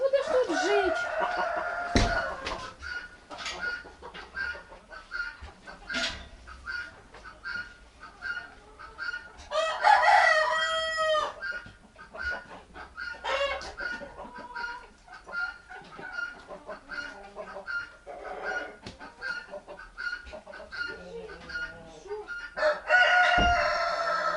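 A young adult rooster crows loudly several times, with clucking poultry, flapping, and occasional clattering nearby; a few brief voices interject.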